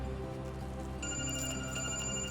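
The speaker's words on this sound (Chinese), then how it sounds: "我接个电话啊" A telephone rings with a bright electronic tone over a low background hum, the ringing continuing steadily through the second half with no talk.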